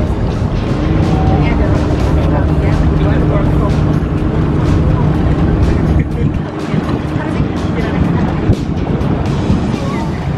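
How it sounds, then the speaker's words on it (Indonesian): A boat engine drones steadily and loudly throughout as the boat heads toward a pier to dock, with water rushing around the hull and a voice talking over the motor. "perahu kita sedang menuju dermaga untuk merapat"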